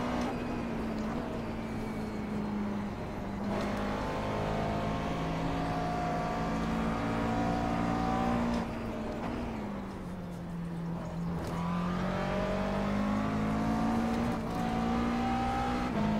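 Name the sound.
McLaren MP4 12C GT3 race car engine in iRacing video game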